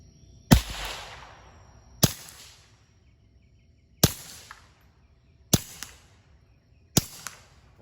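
A Keltec P17 .22 pistol with a Rugged Mustang suppressor fires five supersonic Blazer rounds outdoors, each a sharp, cracking report roughly 1.5 seconds apart, with short decaying echoes and faint plate impacts, no talking.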